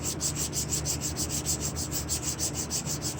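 Rust is scrubbed off the axle seal surface of an automatic transmission with a plastic case, a close, rhythmic rasping in quick, even back-and-forth strokes with no voices.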